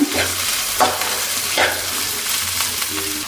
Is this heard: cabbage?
yes